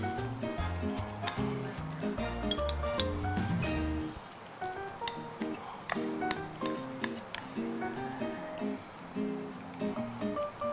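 Dishes clink repeatedly as mee kolok noodles are served onto a plate in a kitchen, sharp glassy taps scattered over quiet background music.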